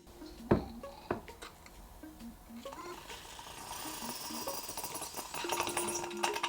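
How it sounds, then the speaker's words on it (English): A quiet metallic lever mechanism on an Odyssey Argos lever espresso machine clicks and ratchets, then a soft rising hiss of air bleeding out builds and sputters. "pulling the handle down to just below the parallel point bleeds this air out"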